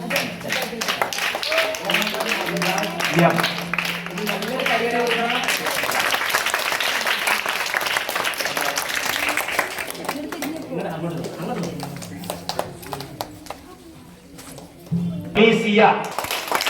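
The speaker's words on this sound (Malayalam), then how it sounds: "നല്ലൊരു കയ്യടി കൊടുക്കാം" An audience at a prize-giving applauds, dense clapping rising and continuing for several seconds, then fading with a brief burst near the end, while someone speaks over it.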